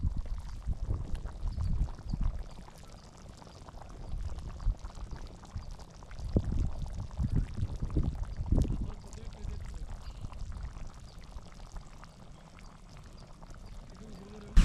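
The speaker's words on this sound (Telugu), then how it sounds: "పులుసు బాగా మరిగిన తర్వాత ఇప్పుడు మామిడికాయ ముక్కలు అనేది వేసుకుంటున్నాం." Mango pieces drop into a boiling Nellore fish curry, producing irregular splashes and thuds over a low, soft bubbling simmer.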